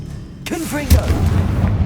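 A voice casts the Confringo spell in the video game Hogwarts Legacy, then a single sharp explosive blast erupts, loud and close, trailing into a brief rumbling tail.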